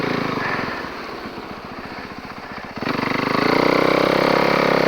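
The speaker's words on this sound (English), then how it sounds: "I'm revving a little too much." A small snowbike engine idles with a rapid pulsing chug, then revs up sharply and holds a louder, higher whine, close by, outdoors in snow.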